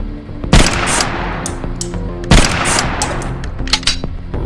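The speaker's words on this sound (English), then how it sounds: "Railgun." A railgun fires in the Meta Quest 2 retro-style shooter Compound: two loud, sharp shots about two seconds apart, each followed by a decaying rumble, then a burst of quicker smaller impacts near the end.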